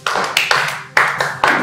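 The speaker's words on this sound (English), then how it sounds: "Clap for her." A classroom of students clapping for a classmate, a handful of loud, uneven bursts of claps close by, swelling and fading in quick succession.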